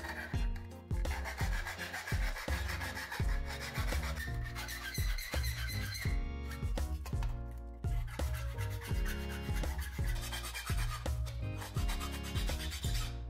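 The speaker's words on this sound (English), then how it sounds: "I refined the shapes with a hand file." A light cover is shaped with a hand file, a steady series of rhythmic rasping strokes, close and continuous, with no talk.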